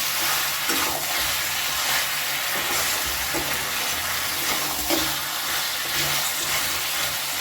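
Mutton curry is stirred and mixed in a pan after salt is added, with a soft, steady sizzle and occasional scraping strokes of the spoon, and no talking.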